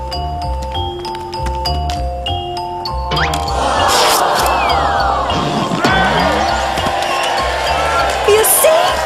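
A large crowd cheers and roars at a lively public event, the swell rising suddenly after a chiming, tinkling musical opening and staying loud and dense with scattered whoops and crashes.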